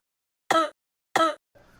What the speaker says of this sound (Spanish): con esto se le va a quitar la tos